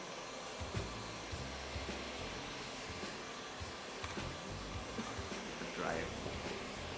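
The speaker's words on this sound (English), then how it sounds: "we're just gonna add in some movement with the dryer." A hair dryer blows steadily at close range during the styling of a fresh haircut, with a voice talking briefly over the airflow.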